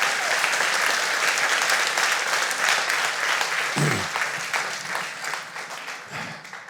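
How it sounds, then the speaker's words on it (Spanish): A church congregation bursts into loud, sustained applause, dense clapping from many hands that gradually thins and fades toward the end. "Démosle un aplauso al Señor."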